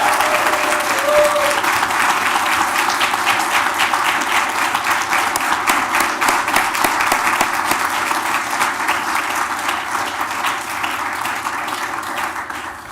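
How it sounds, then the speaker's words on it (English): Loud, sustained applause from an audience at a university convocation ceremony, dense clapping filling the hall for the whole stretch and easing slightly toward the end. "I'd like you to give them a real strong round of applause."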